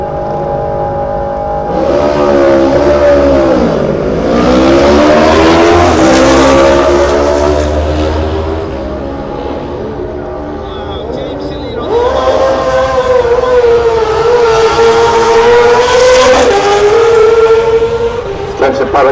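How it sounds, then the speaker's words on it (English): Loud, close racing motorcycle engine at the Isle of Man TT race start, revving and howling, pitch sweeping up and down in bursts, with a brief lull before rising again. "We can hear the number 5 machine of Dominic Herbertson."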